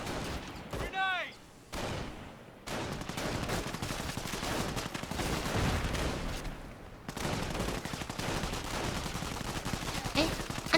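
Battle gunfire in the World War II strategy game Company of Heroes, with dense rifle and machine-gun bursts that continue through most of the clip. Soldiers' voices shout over the shooting.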